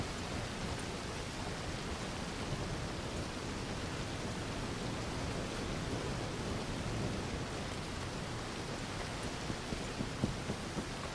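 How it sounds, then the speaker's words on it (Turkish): Rain runs and drips off awnings in a town in Red Dead Redemption 2, a steady, even hiss of falling water that fills the whole stretch with no voices. "Yağmur tentelerden şey yapıyor, akıyor"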